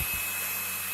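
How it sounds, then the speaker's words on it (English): A blow dryer runs in a steady, close whir, warming a freshly glued plumbing pipe joint between a booster pump and a house; constant airflow noise with no breaks. "joint up there with the blow dryer"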